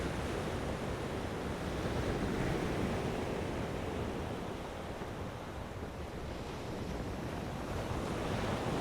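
Pounding East Coast surf breaking on a Melbourne Beach shoreline, a continuous loud wash of waves with wind noise buffeting the microphone, steady throughout and free of voices.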